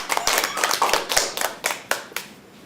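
A small group claps hands in a short, uneven burst of sharp, close slaps that fade out after a couple of seconds.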